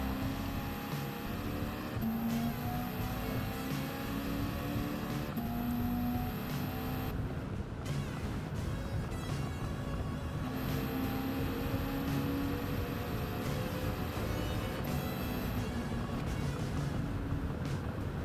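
A Volvo V40 in Gran Turismo 7 revs hard through repeated gear changes, its engine note climbing and dropping in steady cycles with crackling exhaust backfires, moderately quiet and without talk.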